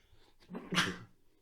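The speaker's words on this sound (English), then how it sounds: "Fucking sneezing all around" A single sharp human sneeze bursts out close to the microphone, preceded by a short intake of breath, in an otherwise quiet room during a podcast recording.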